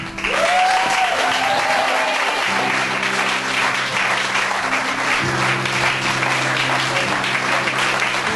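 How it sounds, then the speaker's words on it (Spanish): A crowd applauds loudly and continuously at a church baptism service, dense clapping filling the room from start to finish with a few cheers mixed in. "Démosle un aplauso a David."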